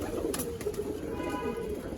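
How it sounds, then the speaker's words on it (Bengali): Pigeons in a loft coo softly and continuously, a low murmuring drone of several birds close by, with faint rustling and no talk. "পায়রাগুলো মাশাআল্লাহ অনেক সুস্থ সবল আছে।"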